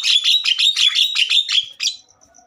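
A Javan myna gives a rapid run of harsh, chattering calls, loud and close, repeating about a dozen times before stopping abruptly.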